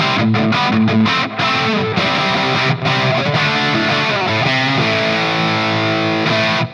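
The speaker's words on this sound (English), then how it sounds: "And now we'll take a look with both inductors on a higher gain rock sound." High-gain rock guitar through a Dunlop Cry Baby Custom Badass dual-inductor wah into a Black Spirit 200 amp, loud, saturated and distorted, with choppy chords at the start giving way to sustained, sweeping notes, no talking.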